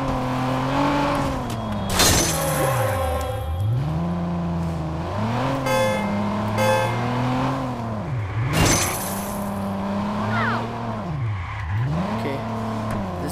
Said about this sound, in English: I am driving like a maniac.